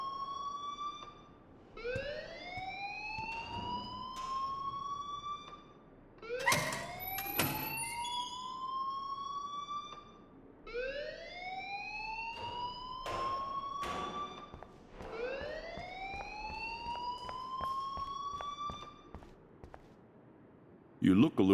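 A loud electronic alarm rings in Life Is Strange, repeated rising whoops sweeping upward in a steady cycle of about four bursts, with brief bangs and clatter between them and faint talk underneath.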